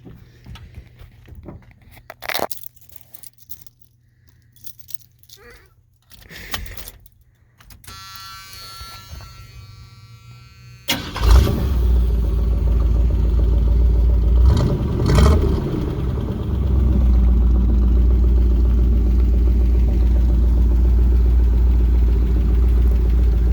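A 1979 Chevy K20 truck with dual exhaust cranks and fires up, then settles into a loud, steady rumbling idle with a couple of brief revs, preceded by quiet clatter.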